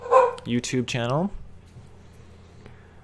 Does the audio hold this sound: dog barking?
yes